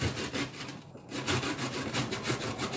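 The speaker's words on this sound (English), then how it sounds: "all you need to do is to grate the Irish potato" An Irish potato is grated by hand with steady, rhythmic rasping strokes, close and fairly loud, with a brief pause near the start and no voices.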